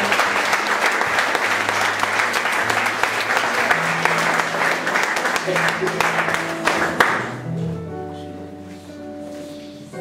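Church congregation applauding loudly in sustained, dense clapping that carries for about seven seconds before fading, as sustained organ or keyboard chords take over at the end.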